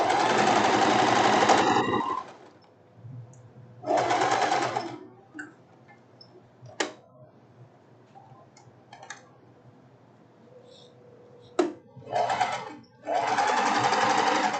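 An electric sewing machine stitches a silk blouse in several loud, steady whirring runs of a couple of seconds each, separated by quiet pauses with faint clicks and handling noises.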